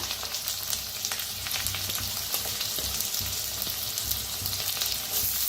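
Chopped onion frying in a pan while cooking a karadi leafy-green dish, with a soft continuous sizzle and light crackle, fairly quiet and steady.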